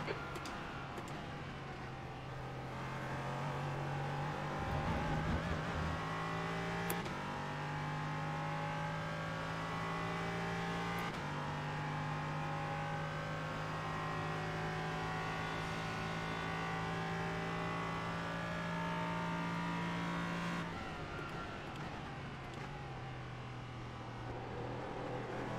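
An LMP3 prototype race car in a racing sim holds a steady high engine drone, with upshifts stepping the pitch and downshifts lowering it through corners, continuous and close throughout.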